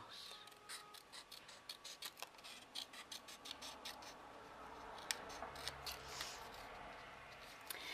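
Scissors snipping straight across fabric during a fussy-cutting tutorial, a quiet run of small regular clicks and rasping cuts close by, with faint talk at times.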